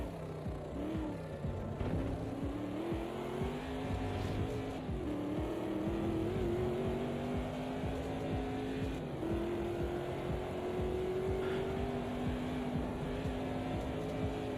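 A race car engine in the sim racing game Automobilista 2 drones loudly and continuously, its pitch climbing through the gears with short dips at the shifts and no voices over it.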